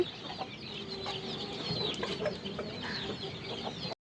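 Several chickens cluck and chatter in a busy caged flock on a farm, soft overlapping clucks with an occasional higher squawk, moderately close.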